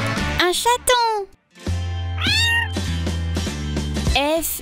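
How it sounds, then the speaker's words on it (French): A kitten in a children's video game gives a series of high, drawn-out meows, close and clear, with one brief silent gap partway through and no talk over it. "Un chaton."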